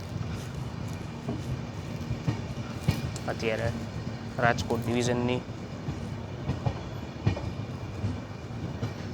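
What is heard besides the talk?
Mumbai Central–Hapa Duronto Express train running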